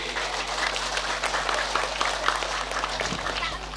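Audience applause at a Balinese Hindu dharma discourse given by a pandita: a dense, steady patter of many hands clapping at once, sustained at an even level for the whole stretch with no voice over it.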